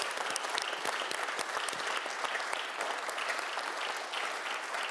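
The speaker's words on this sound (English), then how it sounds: "Round of applause for our panelists." A conference audience at the European Maritime Day 2025 session applauds its panelists, a steady, dense rush of many hands clapping at an even moderate volume from start to finish.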